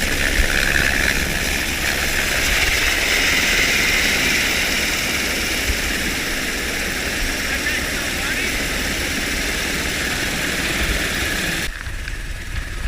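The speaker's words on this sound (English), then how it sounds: "It literally feels like the helicopter's landing on top of me" Helicopter hovering and landing close overhead at a heliboarding site near Revelstoke, British Columbia, a loud steady roar of rotor and turbine noise that fills the whole scene before cutting off abruptly near the end.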